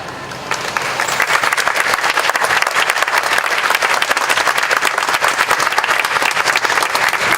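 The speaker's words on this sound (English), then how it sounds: "Can we all give the Hmong 18 Clan Council President another round of applause, please?" A large crowd claps steadily at an outdoor Hmong festival in Wausau, the loud, dense applause starting abruptly and holding strong for several seconds.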